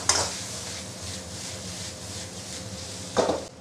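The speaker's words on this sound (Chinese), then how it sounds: "大火爆炒" Pork and sausage are stir-fried in a wok over high heat with scallion and garlic, a steady sizzle broken by scraping spatula strokes at the start and near the end.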